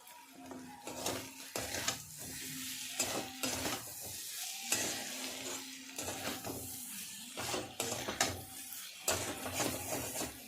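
A spoon scrapes repeatedly through an onion mixture with sugar in a frying pan for a Kabul roll filling, in regular strokes over a low, steady sizzle.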